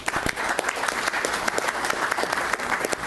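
An audience at a city council meeting claps steadily, a dense patter of many hands at moderate volume that continues without pause.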